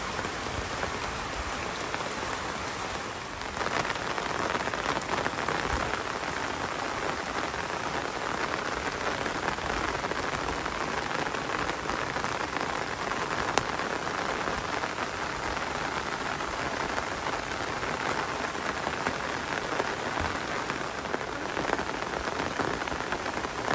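Heavy rain pours down during Typhoon Goring on a farm, with dragon fruit plants nearby, as a dense, constant roar of drops drums on surfaces for the whole stretch, with no voices.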